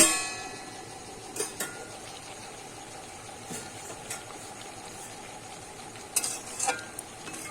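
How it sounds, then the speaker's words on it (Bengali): Bottle gourd greens with prawns cooking in a pan, a low steady sizzle with occasional soft scrapes and clinks of stirring, close and fairly quiet, no one speaking. "নেড়ে নেব একটু ভালো করে"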